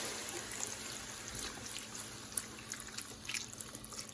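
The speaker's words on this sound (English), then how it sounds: "Take it and pour it in the pan with the chicken." Chicken broth poured into a pan holding chicken for Jamaican-style brown stewed chicken, a quiet trickling and dripping of liquid close by with no voices.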